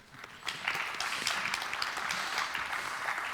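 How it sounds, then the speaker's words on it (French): Scattered audience clapping at a developer conference talk, a quiet, short burst of applause that swells quickly and stays fairly even for about three seconds. "On peut tous applaudir Rémi."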